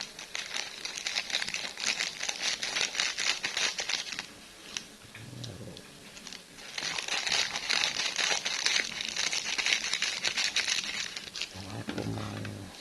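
A plastic bag crinkles and rustles in close, repeated bursts of crackling handling, pausing briefly midway and again near the end, with a low voice murmuring in the gaps.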